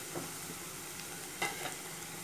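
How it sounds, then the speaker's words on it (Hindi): Capsicum and carrot frying over full flame in a pan while white sauce pasta is made, giving a low, steady sizzle with a couple of brief utensil clinks near the middle. "इसी में अब हम शिमला मिर्च भी ऐड करेंगे"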